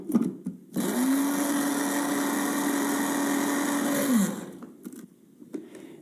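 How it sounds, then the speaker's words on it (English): A small electric coffee grinder whirs loudly for about three and a half seconds, grinding an oxidizer into fine powder. The motor starts abruptly, runs steadily and winds down, with brief quieter handling sounds before and after. "I'm going to grind it up in a different coffee grinder"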